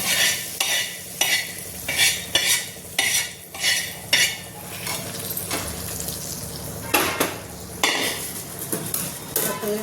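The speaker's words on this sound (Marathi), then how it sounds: "आता हे छान परतून घ्यायचं आणि आपण जी भाजी हटून घेतलेली आहे त्यात आता हे ओतून घ्यायचं मिश्रण फोडणी" Tempering poured into cooked chakwat (bathua) greens sizzles in the pan while a spoon clinks and scrapes through the mixture in repeated strokes, close and loud, with no talking.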